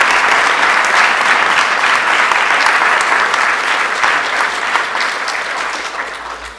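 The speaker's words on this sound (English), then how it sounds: "Let's give Professor Gurnah another round of applause." Sustained audience applause after a public lecture by Professor Gurnah at a conferral ceremony, dense steady clapping from a large crowd that holds loud throughout and tapers slightly toward the end.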